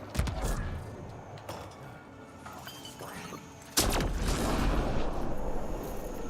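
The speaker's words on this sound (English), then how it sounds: "I heard an explosion." Explosions and gunfire in the Mass Effect Andromeda video game, with loud impacts and crashes near the start, around 1.5 seconds, and a large, sustained blast near the four-second mark.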